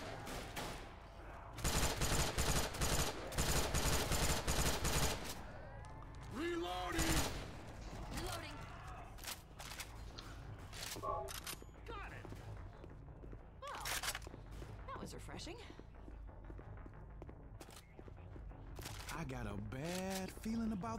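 Rifle gunfire in the Left 4 Dead 2 video game, with dense bursts of rapid shots early, followed by scattered single shots and mechanical clicks while players talk throughout.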